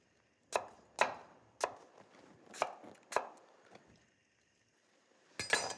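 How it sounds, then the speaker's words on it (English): A knife chops fruit into chunks on a cutting board in a home kitchen, giving about six sharp, distinct knocks at an uneven pace and a louder cluster of cuts at the end, with no talk. "Cut it into chunks."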